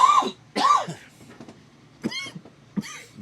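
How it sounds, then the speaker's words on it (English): A person coughs close to the mic, two sharp coughs, a pause, then two more throaty coughs. "I got a cough"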